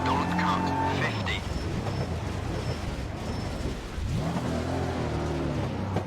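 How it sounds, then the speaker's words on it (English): Fiesta MK7 R2 rally car doing a handbrake turn in a racing video game, with a steady engine drone, tyres scrubbing through the slide and the engine rising again, while someone talks over it. "Not as good as the last handbrake turn, but I'll take it."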